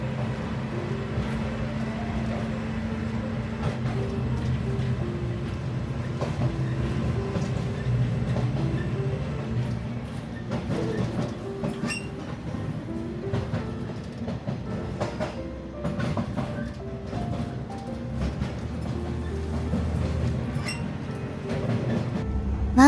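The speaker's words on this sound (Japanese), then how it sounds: "窓を開けてディーゼル音を聞きながら車窓を眺め" A KiHa 47 diesel railcar refitted with a high-output engine runs on a local line, heard through an open window. A steady diesel drone mixes with rolling rail noise and repeated clickety-clack beats from the rail joints throughout.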